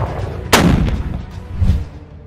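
Ukrainian artillery firing, with one sharp, loud boom that rolls into a lingering rumble and then a second, softer distant blast, both heard in the open with no voices.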